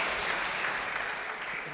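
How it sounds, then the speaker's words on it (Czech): Audience applause, a dense, even wash of many hands clapping at steady loudness throughout, with no distinct voices. "A well-deserved applause."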